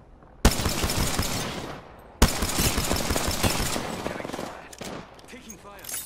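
Rapid bursts of automatic gunfire in an Apex Legends match, loud and close, with a sharp onset, a brief pause, then sustained firing that tapers into scattered shots.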